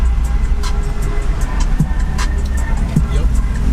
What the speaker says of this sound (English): Good old LA traffic.